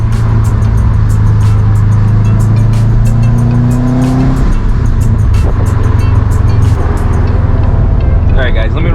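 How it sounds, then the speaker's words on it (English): A 2007 Subaru WRX STI with a Q300 exhaust and catless downpipe rumbles loudly and steadily from inside the car while driving, its low drone rising in pitch then dropping as the engine shifts, with speech over it. "it sounds so nice with the Q300 and the catless downpipe. It's like the perfect combination for that Subaru rumble"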